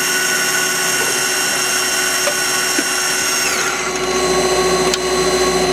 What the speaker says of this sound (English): I'm about 6 inches away from the spindle. You can hear the quality.